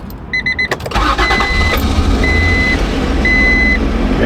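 After an alternator swap, the car's engine cranks briefly and catches, then idles loudly and steadily up close while chimes and warning beeps sound from the dashboard.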